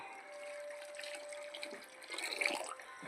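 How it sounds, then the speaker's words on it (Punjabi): More water poured into a cattle brew being prepared on a dairy farm for freshly calved animals, a gentle trickling splash that grows a little stronger late on, over a faint steady hum. "ਆਪਾਂ ਇਹਦੇ ਚ ਪਾਣੀ ਹੋਰ ਪਾਤਾ"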